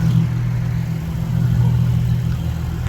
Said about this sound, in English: He started revving it, and I wasn't ready for it.